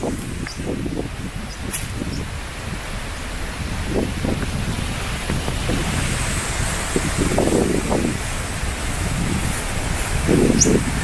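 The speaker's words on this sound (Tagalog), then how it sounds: "Pero lakas ng hangin." Strong wind blowing outdoors ahead of rain, a continuous rushing roar with gusts rising and falling and occasional rustling, fairly loud throughout.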